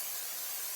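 Cooking spray hisses steadily from a can onto silicone egg molds, a short continuous spray close by.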